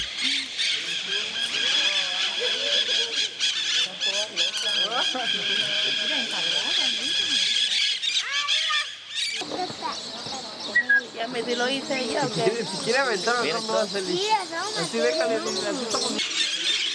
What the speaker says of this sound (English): The green parakeets fly in over them.